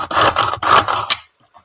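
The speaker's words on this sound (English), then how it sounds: "I love my little onion chopper" A small hand-operated onion chopper grinds and rasps in quick bursts for about a second, close up, then stops into near silence.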